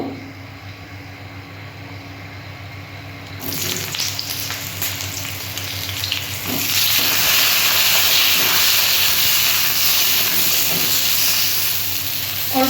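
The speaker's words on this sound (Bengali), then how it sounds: "তেল দিচ্ছি প্রথমে পটলগুলো তারপর আলুগুলো একবার একটু ভেজে নেবো" Pointed gourd and potatoes frying in hot oil for a Bengali fish curry, a steady close hiss and sizzle that jumps louder partway through and stays strong and continuous.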